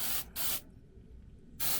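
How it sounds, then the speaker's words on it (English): Citrus cleaner sprayed from a trigger bottle onto an engraved wine glass: two close, loud hissing bursts in quick succession, a pause, then a third burst. "I give it a little spray."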